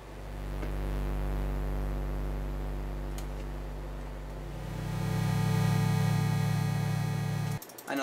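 Sylenth1 synth tone with delay, high feedback and wide stereo plays a dense, buzzing, steady drone. Low harmonics swell louder midway, then it cuts off abruptly near the end. No voices.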